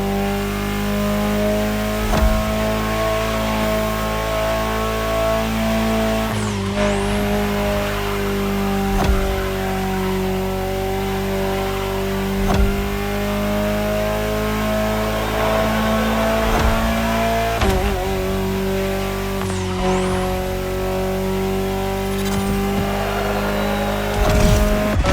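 An Alpine A110 in The Crew Motorfest drives at speed with a loud, steady engine drone that rises and falls. Brief gearshift dips occur twice.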